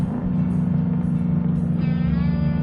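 A growling American car engine in a driving video game holds a steady, loud, low rumble throughout, with no talk over it.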